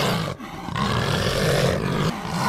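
Loud, drawn-out roar from a tiger prowling just outside a door in DayZ, a single continuous growl with a brief dip near the start, no voices present.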